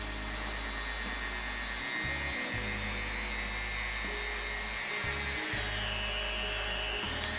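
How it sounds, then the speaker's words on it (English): A Dremel rotary tool set to about speed 4 whines steadily against the finished wood of a Peavey Predator guitar neck, a high, continuous buzz with brief dips in the low hum. "turn your Dremel on, don't turn it up too high, just in this case it's on about 4."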